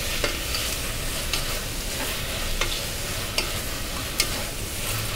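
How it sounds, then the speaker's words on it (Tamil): Prawn biryani masala sautés in a pan with a steady, close sizzle, while a spoon scrapes and stirs it in sharp, irregular clicks, with no talking. "இதில் போட்டிருக்க எல்லாமே நல்லா ரா ஃப்ளேவர் போகிற அளவுக்கு இதை வந்து நல்லா சாட்டே பண்ணணும்"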